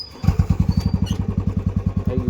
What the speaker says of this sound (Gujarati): થઈ ગયું ગાઈસ ચાલુ બાઇક